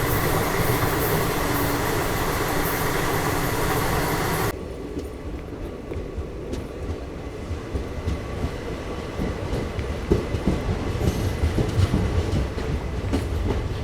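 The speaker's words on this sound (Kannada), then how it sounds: "ಇದು ನಮ್ಮ ಟ್ರೈನ್ ಸದ್ಯಕ್ಕೆ ತಲುಪಿದೆ ಚಿಕ್ಕಜಾಜೂರು ಜಂಕ್ಷನ್ಗೆ" An ICF 2AC coach of the Chalukya Express rolls along the rails with a steady rumble and clattering wheels. The sound shifts abruptly partway through to a lower, more muffled interior drone with occasional clacks.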